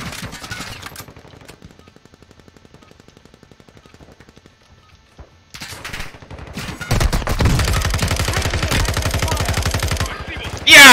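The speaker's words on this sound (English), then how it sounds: "That's an SMG," SMG fire in an online video game: rapid rattling bursts, a quieter stretch of steady fire then a loud, dense sustained burst near the end, with a voice briefly heard.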